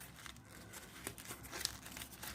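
A sheet of white paper is crumpled close by with steady, soft crinkling and crackling, and a few sharper crunches stand out near the end. No one talks.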